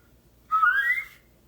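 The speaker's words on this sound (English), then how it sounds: "what I'm actually whistling right now is," A person whistles alone in a quiet room, a single bright, clean tone that slides upward for about two-thirds of a second before stopping.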